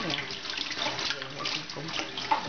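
Tap water runs steadily into a sink while fish is rinsed, a short close hiss of flowing water under a voice.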